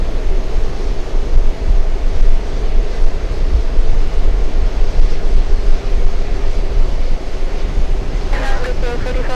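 Strong wind buffets the microphone at an airport, a loud, steady low roar with gusty surges throughout, and a brief burst of voice near the end.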